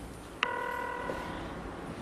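A telephone rings once in a home at breakfast time: a single bright electronic ring tone with a sharp onset that holds for about a second and then fades, moderately loud, with no talking.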